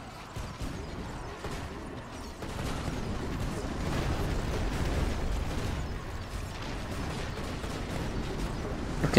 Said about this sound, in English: Destroying the walls like they are nothing.